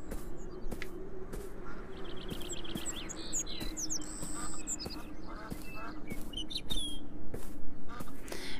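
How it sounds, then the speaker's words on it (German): Birds chirp in the video game Beyond Eyes, where ducks or geese are also around: repeated short calls and quacks sit over a steady background hum throughout. "Da ist nur ein Vogel."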